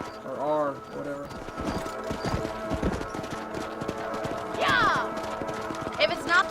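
Rhythmic clip-clop of horse hooves while riding in Red Dead Redemption, a steady gait under talking voices, with a horse whinny and other game sounds mixed in.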